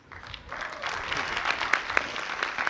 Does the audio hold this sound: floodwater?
no